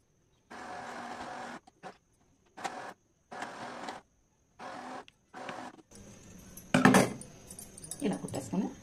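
A sewing machine stitches cloth for a girl's umbrella frock in several short, even bursts separated by pauses, followed by a voice talking over handling noise.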